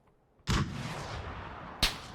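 A single heavy mortar launch in PUBG thumps out, fired at about 400 m, its boom trailing into a long rumble, then a second sharp crack lands moments later.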